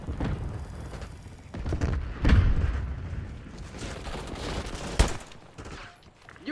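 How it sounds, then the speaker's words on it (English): Call of Duty gameplay explosions and gunfire: booming blasts and crackling bursts layered over continuous rumbling battle noise, with a sharp loud impact near the end. "It's a nice explosion effect."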